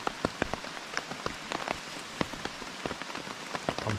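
Rain falls on a tarp shelter at a solo campsite before dawn, sounding as a steady faint patter with irregular sharper drops striking close by, with no voices.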